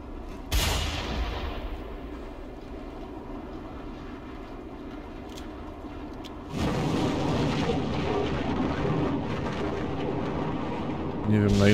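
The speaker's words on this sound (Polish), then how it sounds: "już słychać, że burza ewidentnie nadchodzi." An approaching thunderstorm in the video game Mad Max: a sharp thunder crack, then a long low rumble that swells into a louder, sustained roar of wind and storm noise, with no voices.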